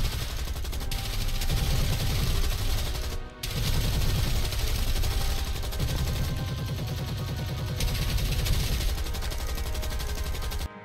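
Sustained gunfire from a squad firing at a monster in a 1957 monster film, a dense, continuous loud barrage of rapid shots with a brief break near the middle before the volley resumes.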